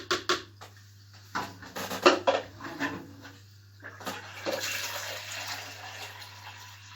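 Water splashes and trickles in uneven bursts, pouring conditioned, rested water into an aquarium during a water change, with soft knocks and rubbing sounds, fairly quiet throughout.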